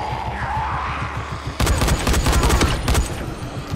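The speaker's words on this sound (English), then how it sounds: "That's some shit shooting." Rapid bursts of gunfire from shooting in the PC video game Dying Light break out suddenly after a low rumbling lead-in, loud and dense with several quick volleys, and no talk.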